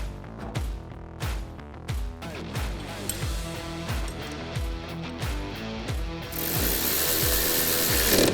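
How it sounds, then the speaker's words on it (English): Ratchet wrench clicking in quick repeated bursts while tightening 5/16" bolts on blade guides of a 4' or 5' ATV straight plow blade wing extension, close and clear, with a hissing broadband noise rising toward the end. "Torque bolts to 14 foot-pounds."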